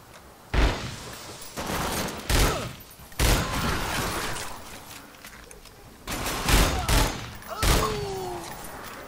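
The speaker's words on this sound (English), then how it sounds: "When you shoot the carbine, it's just really quick." Carbine gunfire in The Darkness II, rapid three-round bursts repeating several times with sharp, loud cracks and brief decays in between, close and dominant.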